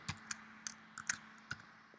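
Text is entered on a computer keyboard as a handful of sparse, crisp key clicks, irregularly spaced, close but fairly quiet, with no voices.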